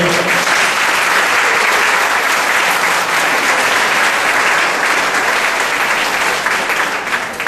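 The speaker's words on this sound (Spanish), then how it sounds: "Dale un aplauso al Señor" A church congregation applauds loudly and steadily for about seven seconds, a dense, even wash of many hands clapping together that fades slightly at the very end.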